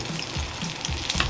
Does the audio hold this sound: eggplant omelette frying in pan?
yes